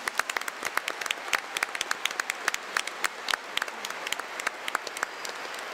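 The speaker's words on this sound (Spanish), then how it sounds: "le damos un fuerte aplauso a la Virgencita también" A church congregation claps for the Virgin Mary during a Mass in the Easter season, a steady stream of sharp, scattered claps that is soft to moderate in level and continues on its own without voices.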